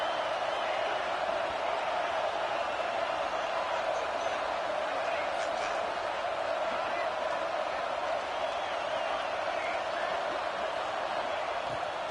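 A stadium crowd roars in an NCAA football video game as a steady, dense wash of noise that holds for the whole stretch, with a commentator's voice running over it.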